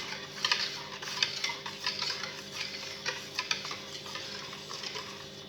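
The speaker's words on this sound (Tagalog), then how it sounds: "Mix lang po natin maigi." Vanilla cake batter with vanilla essence being stirred in a bowl, giving soft, steady scraping and ticking strokes in an irregular rhythm, close and fairly quiet, with no talking.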